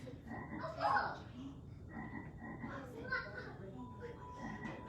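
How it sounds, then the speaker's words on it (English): Frog croaks repeat over a busy backdrop of children's voices and playful music. "It's a frog."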